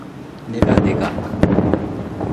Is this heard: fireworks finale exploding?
yes